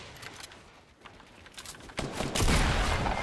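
Gunfire in a 20-player Fortnite match: scattered sharp shots early on, then a loud, dense volley of rapid cracks building toward the end, heard close and alone without talk.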